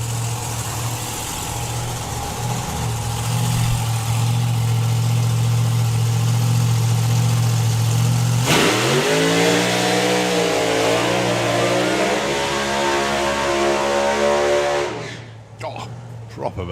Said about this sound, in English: Proper burnout there for Stefan Janssen.